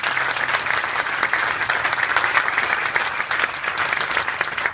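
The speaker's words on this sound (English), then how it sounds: "So please give a round of applause for that." A crowd at a ShopRite of Newark groundbreaking gives a loud, steady round of applause: many people clapping continuously and fairly close, with no speech over it.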